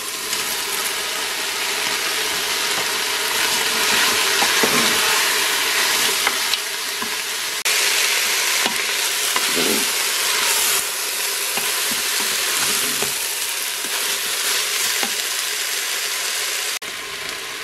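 Rice and leek sautéing in a Cookeo multicooker give a steady, loud sizzle close by. Intermittent stirring scrapes cut through it, with no talking, for the whole stretch.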